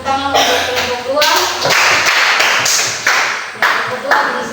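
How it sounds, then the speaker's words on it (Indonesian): Short burst of classroom clapping from students applauding a presenting group, uneven taps and claps close by, with a teacher's voice talking over them. "Kita berikan tepuk tangan untuk kelompok 2."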